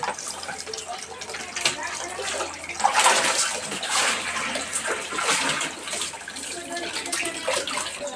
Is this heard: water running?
yes